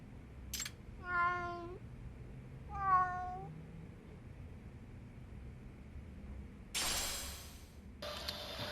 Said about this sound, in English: I heard a meow.